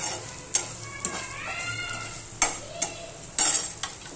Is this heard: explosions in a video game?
no